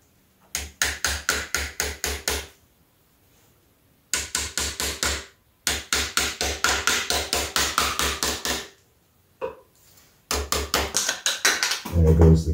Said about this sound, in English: Use a hammer for this, but be really gentle.